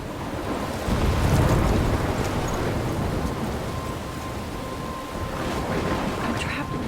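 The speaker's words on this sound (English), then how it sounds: "I'm trapped in a storm?" Stormy wind and crashing ocean waves in the Life Is Strange video game, a steady, loud, broadband roar with a surge near the start and gusts throughout.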